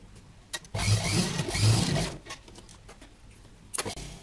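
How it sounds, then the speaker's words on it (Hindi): Sewing machine stitching a yoke kurta, running in two quick bursts of rapid mechanical whirring with brief clicks before and after, close and fairly quiet. "अब आप यहाँ सिलाई लगा लीजिए।"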